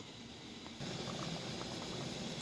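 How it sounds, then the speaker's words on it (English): Peaches cooking down into peach butter, bubbling in a pot on the stove, a steady close hiss of simmering with faint pops, growing slightly louder partway through, no talking. "it's bubbling really good"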